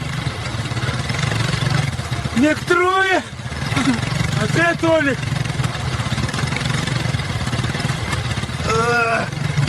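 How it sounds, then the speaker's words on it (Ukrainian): A motorcycle carrying three riders runs steadily at a low drone throughout while people shout and talk over it in a village. "Хлопці, вас троє на мотоциклі."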